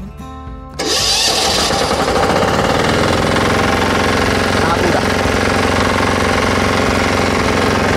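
A diesel engine on a mini four-wheel tractor or diesel cultivator fires up with a turn of the starter key, the start-up catching almost at once, then running loud and steady in a harsh clattering roar while a voice speaks briefly.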